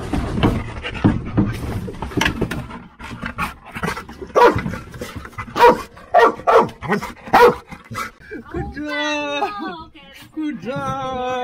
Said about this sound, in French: le chien m'a trouvé et il a aboyé mais près de ma tête